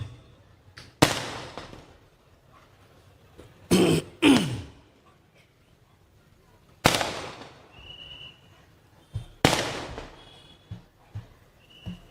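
Sharp firecracker bangs burst at irregular intervals at a political campaign rally in Sangola, Maharashtra, some in quick pairs, each fading out against a quiet background with no speech.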